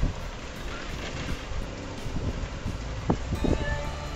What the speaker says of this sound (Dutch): Is lekker aan het waaien.